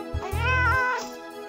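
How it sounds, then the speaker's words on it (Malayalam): Cartoon cat gives a single clear, drawn-out meow, close and alone. "കണ്ടം പൂച്ച കറങ്ങി നടപ്പുണ്ട്."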